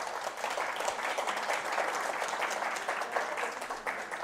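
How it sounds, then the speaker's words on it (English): Conference audience giving the speakers a round of applause, a steady wash of many hands clapping from a sizable crowd, fairly distant and even, with no talk over it. "I'm going to ask that we give a round of applause to our speakers again"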